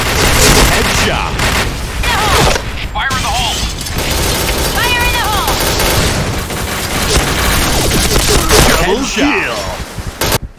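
Point Blank, a video game, fills the moment with dense gunfire and booming explosions, including a grenade blast, in a loud continuous battle mix with in-game voice callouts over it.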